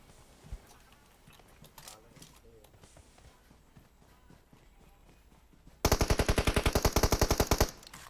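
Rapid burst of automatic gunfire in the mobile battle royale game PUBG Mobile, erupting loud and close after a stretch of quieter game sounds and soft voices, then stopping abruptly.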